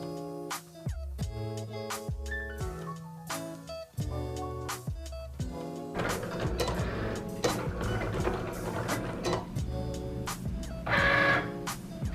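A Cricut Explore Air 2 cutting machine runs close by, making stepped motor whirs and rhythmic mechanical ticks that shift in pitch. The tone turns to a denser, steadier buzzing in its second half.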